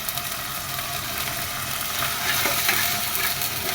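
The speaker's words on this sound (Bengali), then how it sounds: "বাটা মশলাটা রেডি করে ফেলেছি, সেটা দিয়ে দিলাম। একটু ভাজা ভাজা হোক" Bengali spice paste frying with salt in a pan for hilsa fish korma, a steady close sizzle with light stirring scrapes running continuously for a few seconds, no voices.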